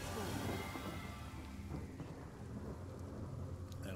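Steady rain spell from the video game Divinity: Original Sin, a dense continuous wash of falling rain with rumbling low thunder, loud and even throughout the whole stretch.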